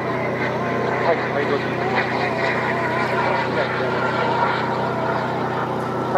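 Remote-control model MiG-29 OVT jet with thrust vectoring making a low pass, a steady loud turbine roar sustained throughout with a person talking over it.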